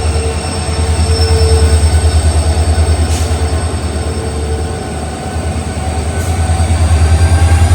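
A loaded goods train rumbles steadily along the railway line close by, a loud continuous roll of wheels with rhythmic clatter and faint squeals, no voices.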